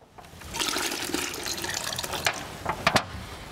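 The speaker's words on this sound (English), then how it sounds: "now when I pour that water off" Water is poured off from a bucket, a steady splashing, gushing pour that swells in and continues with uneven gurgles and a few sharper splashes near the end.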